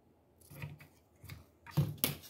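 Scissors snipping through fabric for a bear outfit, several quiet separate cuts in an uneven rhythm, close and alone in a still room.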